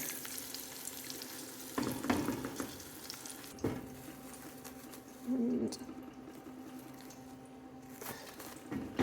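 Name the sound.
frying breadfruit in pan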